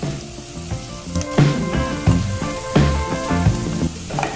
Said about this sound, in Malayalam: എല്ലാം നീളത്തിൽ അരിഞ്ഞു വെച്ചത് പതിയെ വഴറ്റിയെടുക്കാം.